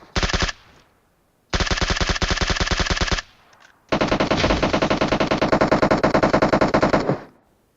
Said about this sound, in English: see if he can figure out who is shooting at him from where